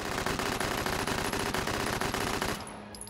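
A KP-31 submachine gun in Hot Dogs, Horseshoes & Hand Grenades VR fires unshouldered in one long, rapid automatic burst of evenly spaced shots for about two and a half seconds, loud and close, then cuts off.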